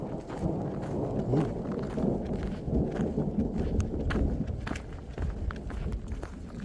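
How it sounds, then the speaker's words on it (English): A thunderstorm breaks out in the open at Gibbons Pass in a burn zone, with rain and low rumbling close around and no talk. "the storm has started already"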